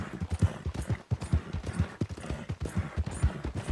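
Horse hooves clip-clop in a steady rhythm in Red Dead Redemption 2, near and moderately loud, with faint game ambience underneath and no talking.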